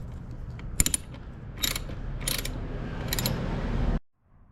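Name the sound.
ratchet tightening a loose bolt with hex head in RX7 interior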